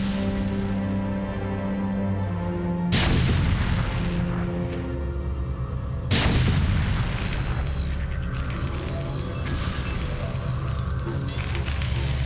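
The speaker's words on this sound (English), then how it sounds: "Siege tank still there, pegging away at the assimilator." Siege tank artillery in StarCraft (Blizzcon 2005 match) pounding a Protoss assimilator, two heavy booming blasts about three seconds apart, loud and close, each followed by rumbling decay over constant game background noise.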